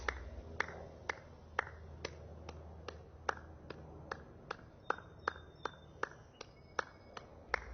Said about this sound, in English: So start with the clapping of the hands